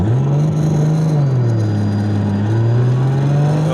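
A Barra-swapped Ford GT350 revs hard on a dyno, its engine climbing into a loud, sustained wail with rising and falling pitch across a steady pull, close and dominating.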